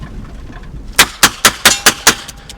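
A cheap Armus .32 Smith & Wesson pistol fires six loud, sharp shots in quick, even succession, each with a brief crack and short decay.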